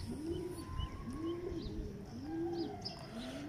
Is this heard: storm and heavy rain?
no